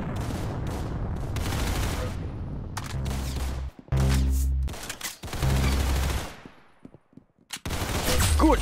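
Rapid gunfire in the video game Arsenal, with loud bursts of automatic shots and booming low blasts arriving in several clusters separated by brief near-silent gaps, close and punchy, with a little talk mixed in.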